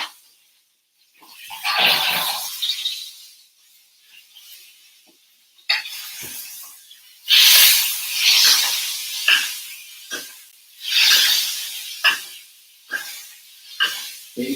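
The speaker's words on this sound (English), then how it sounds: "Basting." Steaks basted in a hot pan sizzle in loud hissing bursts that swell and fade as fat is spooned over, with brief quiet gaps between, close up and with no talking.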